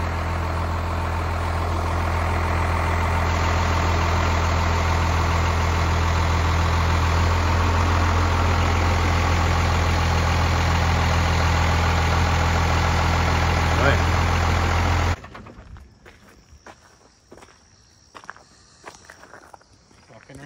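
A Dodge Ram pickup's engine idles with a loud, steady low rumble for about fifteen seconds, then cuts off abruptly, leaving only faint scattered knocks and movement.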